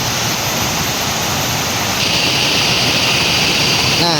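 River flowing through forest near a bamboo bridge in remote Sukabumi, West Java, a loud, close, continuous rushing roar of water, steady throughout with no pauses.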